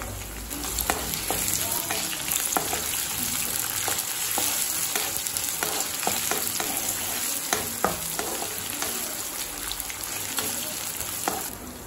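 Curry leaves, a dried chili and onion fry in a hot pan, sizzling steadily while a spoon scrapes and clicks through repeated stirring, with no talking.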